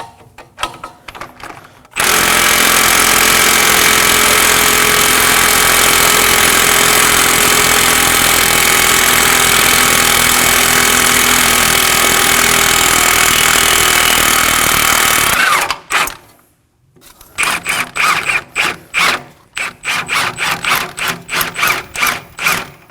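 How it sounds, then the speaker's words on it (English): An impact wrench with a 24mm socket tightens a bolt on a press tool to push out a front wheel bearing on a 2014-2020 Acura MDX: a loud, sustained buzzing whir for about thirteen seconds, then a brief pause and several short, sharp bursts. "I'm going to be using a 24mm socket to tighten this bolt"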